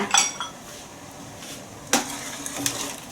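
Metal utensil clinks and scrapes against a pot of Thai sour curry with drumstick and sea bass, a few sharp knocks over a quiet, steady background, no voices.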